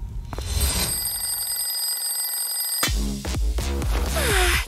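A mobile phone rings in a cartoon skit, a steady electronic ringtone repeating for about three seconds before bright music-like tones take over.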